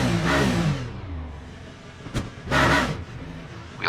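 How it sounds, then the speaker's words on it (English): A race car engine roars past in the Le Mans Ultimate racing game: the Alpine number 36 at the 24 Hours of Le Mans, loud and close, with one early surge and a second rising rush near the end. "And that car that you hear, that is the Alpine of the number 36"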